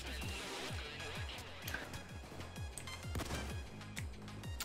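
Video game sniper shots ring out repeatedly, several sharp reports spread through a few seconds over a steady game soundscape, with talk in places.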